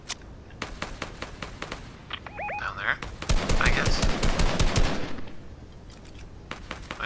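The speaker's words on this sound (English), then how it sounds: "Someone shooting over here." Rapid bursts of gunfire from a Fortnite match, scattered shots early on building into a dense, loud volley in the middle before tapering to occasional cracks, with a voice speaking briefly in between.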